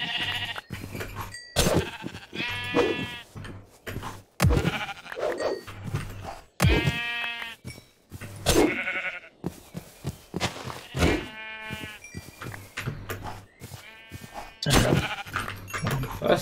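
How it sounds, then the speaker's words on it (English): Sheep in the RLCraft Minecraft modpack bleat again and again, wavering calls that overlap one another over a steady background. "A lot of sheep."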